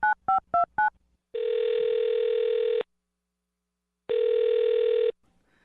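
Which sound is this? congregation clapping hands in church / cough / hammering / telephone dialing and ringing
telephone dialing and ringing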